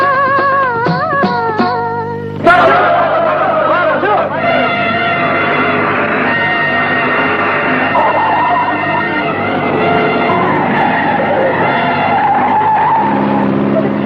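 In a car chase from the 1958 Hindi film Farishta, tires squeal and skid loudly. A sliding screech is followed by a sustained engine roar with whining tones, and voices are faintly mixed in.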